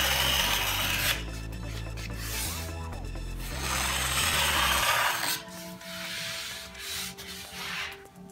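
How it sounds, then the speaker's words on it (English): A small hand card scraper works the corners of a wooden piece in a series of close, raspy scraping strokes of varying length, with short pauses between passes and no talking. "got a little card scraper here. I'm just gonna quickly break these corners."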